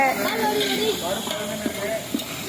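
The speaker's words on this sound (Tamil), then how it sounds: "பருப்பு வெந்துன்னு இருக்கு இப்போ" Dal lentils boil in a cooking pot on a stove, a steady steamy hiss and bubbling that runs throughout with faint tonal whistles over it.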